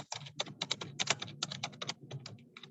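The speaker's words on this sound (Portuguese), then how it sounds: "Quem está digitando?" Rapid typing on a computer keyboard, a quick irregular stream of crisp key clicks heard close and fairly quiet, with no voices.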